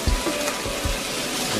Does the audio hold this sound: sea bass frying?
yes